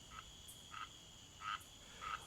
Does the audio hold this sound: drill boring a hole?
no